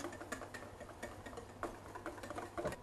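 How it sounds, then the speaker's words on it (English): Clarified butter being whisked into egg yolks and vinegar for a sauce, a quiet, quick ticking rhythm of a whisk tapping the bowl, repeated steadily and close by. "So we're going to slowly whisk in the clarified butter."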